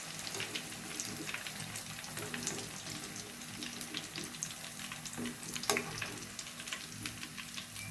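Red amaranth pakoras fry in hot oil with a continuous soft sizzle dotted by small pops and bubbling crackles, fairly quiet and close, with brief clinks of stirring.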